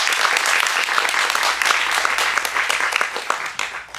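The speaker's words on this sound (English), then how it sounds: "So, we applaud you." A crowd at a storytelling event gives a steady burst of dense, close applause that carries on evenly for several seconds with no voices over it.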